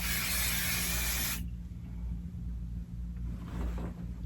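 Quilt basting spray hisses from an aerosol can onto fabric in one loud, close burst lasting over a second, followed by quiet room rumble and a faint second short spray.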